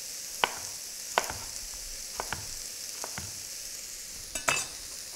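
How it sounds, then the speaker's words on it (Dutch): A knife chops vegetables into coarse pieces on a cutting board in scattered, irregular strikes, a few sharp thuds spaced apart over a faint background hiss. "in grove stukjes snijden"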